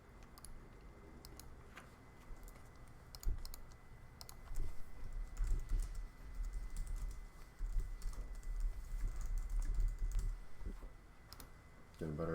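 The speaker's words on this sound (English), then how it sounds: "Getting better at typing those keywords." Computer keyboard typing during a swim team logo redesign session, with steady clicking keystrokes in bursts throughout, moderately close, under a faint background hum.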